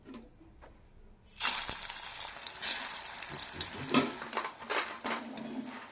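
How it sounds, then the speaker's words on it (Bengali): Besan (gram flour) fritters hit hot oil after a quiet moment, breaking into a loud, steady sizzle with crackling bursts that continue to the end, with no talking. "এইভাবে আমি বাকিগুলো তেলে ছেড়ে দিচ্ছি।"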